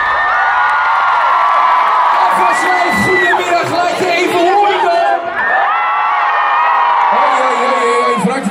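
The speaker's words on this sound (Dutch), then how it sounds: "applaus voor de presentatoren van vandaag" A large audience at the VEED Awards 2019 in AFAS Live Amsterdam, whooping and cheering loudly for the presenters in a dense, sustained roar of many voices.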